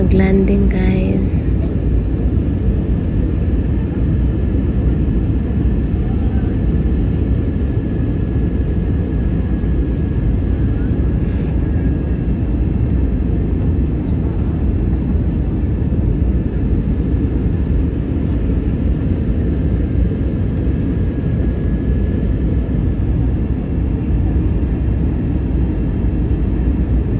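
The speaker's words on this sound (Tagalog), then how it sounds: "Manila na po ito at malapit na tayo mag-landing guys" An airplane approaching to land in Manila fills the space with a constant loud cabin rumble and engine drone, steady and unbroken throughout with a faint whine on top.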